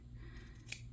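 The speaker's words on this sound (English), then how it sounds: "and I'm going to trim off this excess." Scissors trim away the excess fabric from a garment sewn from a home-drafted pattern, giving one brief, close, crisp snip that stands out against a quiet background.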